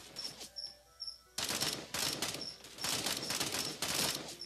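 Bursts of rapid gunfire from a weapon in the video game Sausage Man, starting sparse and then firing in repeated loud volleys with short pauses between them.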